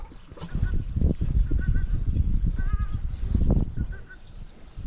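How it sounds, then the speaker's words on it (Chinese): Large ducks honking outside a campervan parked on a Tibetan road trip among yaks, repeated nasal calls in short bursts over wind and low rustling, fairly close and loud. "看嘛，那外面的那种鸟在叫"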